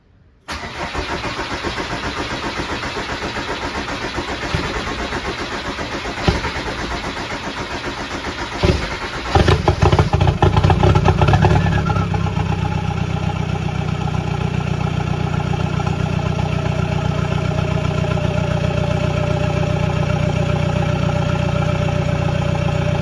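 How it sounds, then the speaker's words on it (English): A 1981 VW Rabbit pickup with a swapped TDI diesel and fresh exhaust, no glow plugs, cranks for several seconds, sputters and catches, then settles into a loud, steady, clattering idle. "gonna go ahead and give you guys a little bit of a cold start here, test out the new exhaust"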